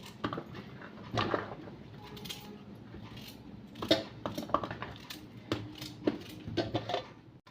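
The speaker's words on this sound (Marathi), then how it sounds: "इथं बटाटे कापून घेऊ" A knife cuts potatoes in a home kitchen, giving sparse, faint, irregular taps and clicks of the blade against the board with quiet pauses in between.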